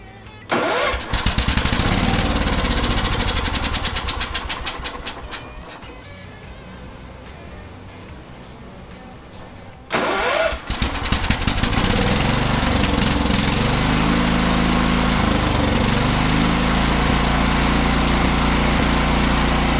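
A Wheel Horse 314H garden tractor engine cranks and catches loudly up close, sags to a lower rough run for several seconds, then roars back up and keeps running steadily to the end.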